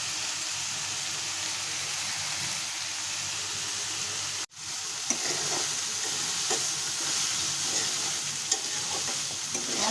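Taro stolons frying with spices and mustard paste in a pan, a dense steady sizzle close by, briefly cut off midway then resuming with scattered pops and stirring scrapes.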